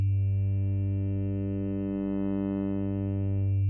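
Korg minilogue xd synthesizer playing its morphing wavetable oscillator: one sustained, steady harmonic tone held for the whole stretch with a slight swell in the middle, clean and alone with no talk.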